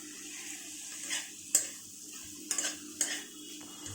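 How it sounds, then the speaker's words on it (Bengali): Egg frying in a pan for chow mein, a soft sizzle under several sharp scrapes and clinks as a utensil stirs and taps the pan. "আর ডিমটাকে ভালো করে ভেজে নিচ্ছি"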